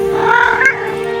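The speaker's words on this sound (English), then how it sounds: "Do you hear that? That's my cat." A house cat meows once, close and clear, in a short drawn-out call over a steady background hum.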